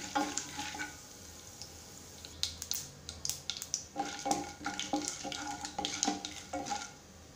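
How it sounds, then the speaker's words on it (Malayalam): Mustard seeds and chana dal frying together in hot oil in a pan, a soft sizzle that builds into a run of sharp crackles and pops, with occasional stirring clinks. "കടുകും കടലപ്പരിപ്പ് ഞാൻ ഒന്നിച്ചിട്ട് കൊടുത്തു കേട്ടോ."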